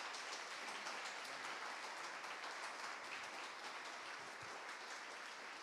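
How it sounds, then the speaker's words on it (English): Audience at a kidney charity anniversary gala giving sustained applause, a dense, steady wash of many hands clapping at moderate distance with no voices over it. "So big round of applause for the Young Ambassadors one more time."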